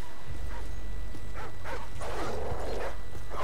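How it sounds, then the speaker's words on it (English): Dogs bark in a Call of Duty Modern Warfare 2 Spec Ops match: several sharp, mid-distance barks and yelps come in bursts over a steady low game rumble. "Dogs."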